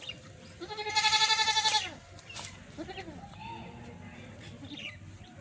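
A native or crossbred castrated goat gives one loud, wavering bleat while being bathed, followed by softer scattered animal sounds and faint background noise.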